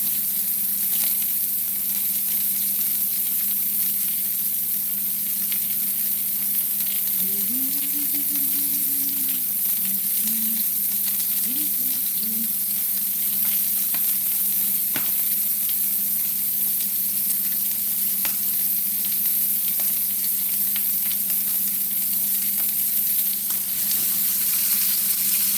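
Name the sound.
rib roast searing in a pan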